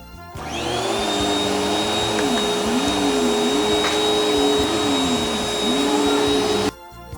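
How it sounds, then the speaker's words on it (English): A vacuum cleaner whirs steadily and loudly for several seconds, its motor pitch wavering as it moves, then cuts off abruptly. "spot vacuum daily"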